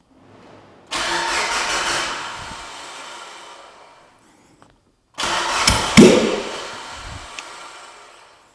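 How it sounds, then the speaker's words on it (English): A Mitsubishi Evo 8 with its intake manifold removed cranks twice, each time a loud, close churn of the starter and engine lasting a few seconds, the second attempt catching with a sharp roaring burst before dying away. "I'm gonna go ahead and crank the car with the intake manifold off"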